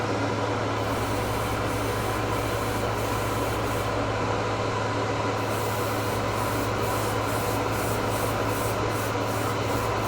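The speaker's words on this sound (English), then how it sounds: "When we get done with spraying these" Gaahleri Kaleido ColorWorks metal paint is sprayed in a continuous, loud, close broadband hiss that holds steady throughout, with no talking.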